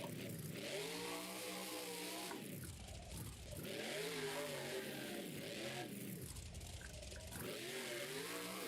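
A monster truck engine in BeamNG.Drive revs up and down in long cycles, rising and falling in pitch as the throttle swells and eases, loud and continuous.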